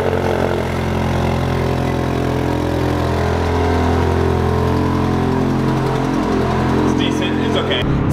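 A Ferrari that was recently lowered idles steadily after a cold start, with a low, even engine drone held for several seconds while a voice talks over it.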